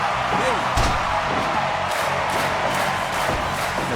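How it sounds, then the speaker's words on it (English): A crowd at a house wrestling show cheers and roars steadily throughout, with occasional thuds and a commentator's voice over the noise. "The crowd starting to get fired up, and Mag.Lo giving them the answer"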